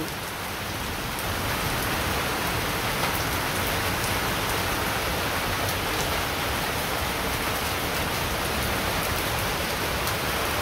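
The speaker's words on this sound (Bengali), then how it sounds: "সারাক্ষণ বৃষ্টি আর বৃষ্টি।" Steady rain falls on a rainy day, a dense continuous hiss of drops close by that holds an even level throughout with no voices.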